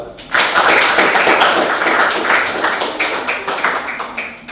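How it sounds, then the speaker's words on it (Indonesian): Classroom applause for a student group during a teacher-training session, a steady patter of many hands clapping close by for several seconds, easing slightly toward the end. "Aplaus untuk nomor 2"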